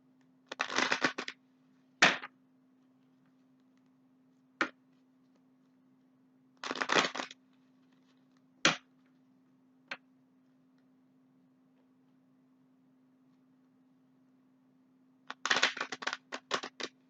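Several short bursts of cards being shuffled and riffled, separated by pauses and a few sharp taps, over a faint steady hum.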